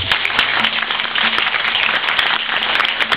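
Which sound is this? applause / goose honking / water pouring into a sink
applause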